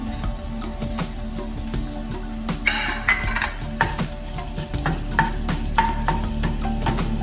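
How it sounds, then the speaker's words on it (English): Cumin seeds and a bay leaf sizzling in hot oil for chana masala, a loud close crackle with repeated spoon scrapes and clinks against the pot, no voices. "So I'm going to put the cumin seed and the bay leaf."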